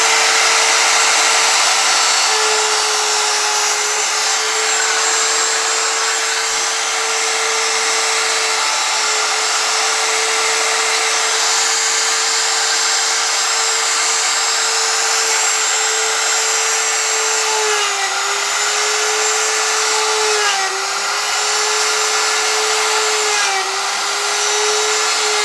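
A router cutting a half-blind dovetail joint in a jig on box-corner boards: a loud, continuous high-pitched motor whine with a steady drone, pitch dipping slightly at times, running for about twenty-five seconds.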